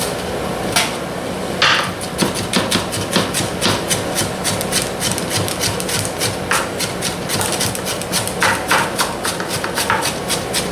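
Onion chopped very finely with a knife for Lebanese kafta: a fast, steady run of crisp blade taps on a cutting board, close and fairly loud, with no talking.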